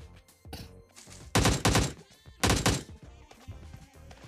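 Gunfire from a recoil-free gun in a video game comes in two loud, close bursts of rapid automatic shots, each about half a second long, with quieter scattered shots and clicks between them.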